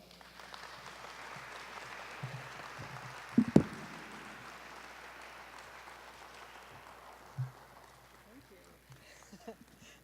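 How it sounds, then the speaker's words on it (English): Audience applauding steadily for a speaker at an evening career-week talk, a broad sustained wash of clapping from a crowd with a couple of louder bumps near the microphone partway through. "Let's give a big round of applause for Marcia."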